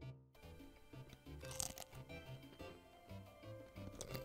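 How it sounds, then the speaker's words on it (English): Chips being crunched in steady, repeated bites, close and fairly quiet, with crinkly crackling texture and no talking. "Will you stop crunching chips"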